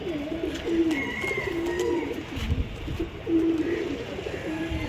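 A racing pigeon close by gives repeated soft, throaty coos in short phrases over low background noise.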